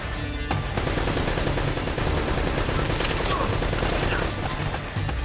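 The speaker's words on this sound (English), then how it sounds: "I know it's a turret around the corner. How are we supposed to get out with the turret?" Turret machine gun in Uncharted: Drake's Fortune fires a long, dense fusillade of rapid shots, loud and continuous throughout with a brief gap near the start, layered with game mechanisms and clatter.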